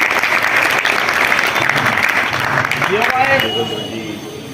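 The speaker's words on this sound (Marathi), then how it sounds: "सगळ्यांनी टाळ्या वाजून त्यांचं स्वागत करायचं" Crowd applause welcoming a guest at a BJP Nimgaon mandal blood donation camp in Malegaon, a steady dense clapping that fills the clip and fades slightly at the end as a voice begins speaking.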